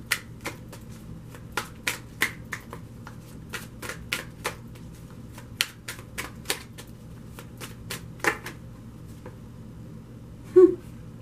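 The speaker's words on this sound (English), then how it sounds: "We're going to go ahead and shuffle this time." Tarot cards are shuffled during a daily reading, giving a series of sharp, evenly spaced card snaps and riffles, close and fairly quiet, over a soft background hum with no talking.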